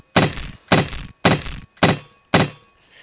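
Five hard, evenly spaced strikes of a hammer banging wood in the Rust video game, each a sharp metallic-sounding clang with a short ringing decay, loud and alone.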